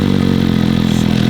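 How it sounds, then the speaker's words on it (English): A motorcycle engine idles close and loud, with a fast, even mechanical throb and no voices over it. "we're all waiting for you to start your cute bike"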